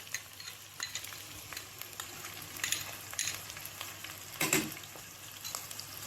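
Finely chopped onion fries in ghee and oil with ginger for chicken karahi, giving a continuous close sizzle with intermittent scraping and knocking from stirring. No one speaks.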